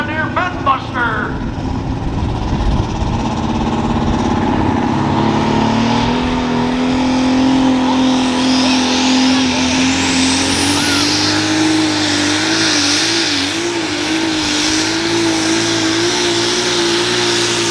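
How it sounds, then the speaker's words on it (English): A John Deere Bedbuster super stock pulling tractor with four turbochargers roars loudly and rises into a sustained high turbo whine and engine scream, with a voice talking over it. "Cole Whittler, 4 turbochargers crammed under the hood of the John Deere Bedbuster"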